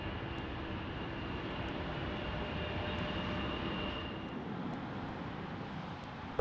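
A fixed-wing airplane passes roughly 2 miles from the runway threshold near Salt Lake City airport, heard as a steady, fairly distant broadband roar with a faint whine, holding even for several seconds and then thinning slightly toward the end.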